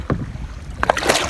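A canoe paddle dips and pulls on the Ghost River, making a couple of quick, close splashes and water swishes against light wind noise. Each stroke is brief.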